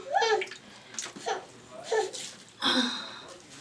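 Clean warm water is squeezed from a washcloth during a baby's bath, giving several short close trickles and splashes in bursts, with light child vocal sounds mixed in.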